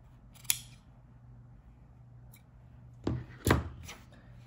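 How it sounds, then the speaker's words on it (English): Scissors trimming the fabric seam allowance along sewn neckline stitches: one sharp snip, a long pause, then two or three close crisp cuts in a quiet room. "we're going to trim our seam lines from the stitches we just put in"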